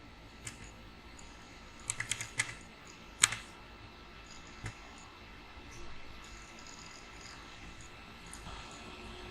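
Someone types a one-time passcode on a computer keyboard, making quick clusters of light key clicks that are soft and close, then tapering into quiet room noise.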